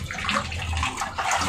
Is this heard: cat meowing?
no